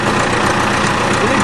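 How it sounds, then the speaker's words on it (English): A farm tractor engine runs steadily nearby, a dense continuous idling rumble with no breaks, under some background voices. "there goes the tractor."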